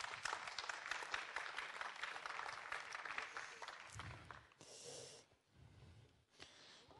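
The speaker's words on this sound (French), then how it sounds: "Et on l'applaudit." Scattered applause at a web awards ceremony on the Côte d'Opale, clapping for the winning online jewelry shop for a few seconds before trailing off into quieter breathy sounds and room noise.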